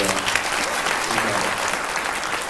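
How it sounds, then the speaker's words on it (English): Loud, dense applause from a convention audience at the end of the DC Masters of Art panel at C2E2 2014, a sustained wash of clapping filling the whole moment with a murmur of voices underneath. "So how about a round of applause for"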